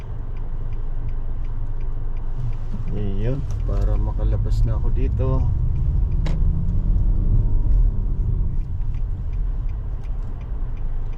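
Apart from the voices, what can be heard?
red car driving past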